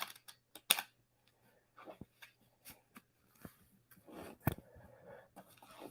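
A deck of cards is shuffled by hand, giving faint, scattered flicks and riffling taps, quiet and close, with brief pauses between bursts.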